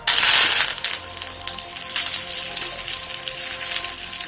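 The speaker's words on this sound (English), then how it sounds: "Oil is hot. Now I'll add red chili," Red chili and curry leaves dropped into hot mustard oil, a loud burst of crackling sizzle that settles into a steady, busy frying hiss close by.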